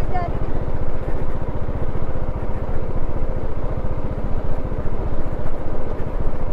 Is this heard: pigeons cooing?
no